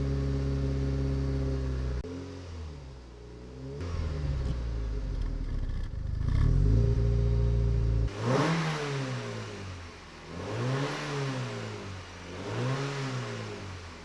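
A 1995 Mk3 VW Golf GTI 16V started after sitting for eight months, its engine revved hard several times, rising and falling in a rhythmic pattern up close with no talking.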